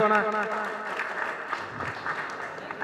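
An audience at a student award ceremony in Dammam, Saudi Arabia, applauds with steady, moderately loud clapping that follows a brief spoken voice.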